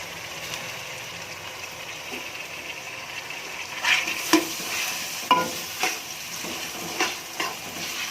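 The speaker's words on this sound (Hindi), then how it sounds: "टमाटर को पकाएंगे" Chopped tomatoes cooking in a pan for moong dal, a soft low sizzle with occasional stirring scrapes and clinks, fairly quiet and close.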